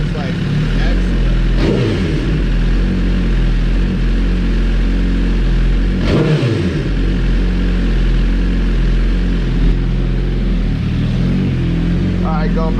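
A Suzuki GSXR1000R motorcycle with a full exhaust idles with a deep, steady rumble, its rough low drone continuous throughout with a couple of brief surges in the note.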